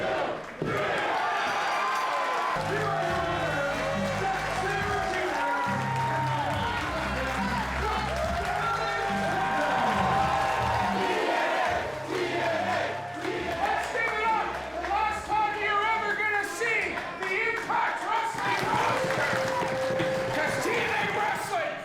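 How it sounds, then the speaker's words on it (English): Wrestling arena crowd at a professional wrestling event, roaring and cheering in waves with rhythmic chanting and a loud, dense background of many voices, while someone talks over it in the foreground. "It's a very special crowd."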